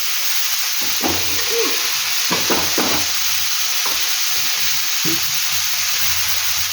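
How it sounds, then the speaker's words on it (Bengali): Boiled chickpeas and banana flower fry together in a pan, making a continuous loud hiss of frying with a few clattering stirs along the way. "এখন আমি এই মোচা আর ছোলাটা দিয়ে দিলাম একসাথে"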